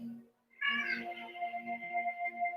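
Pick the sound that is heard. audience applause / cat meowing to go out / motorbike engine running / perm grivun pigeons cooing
cat meowing to go out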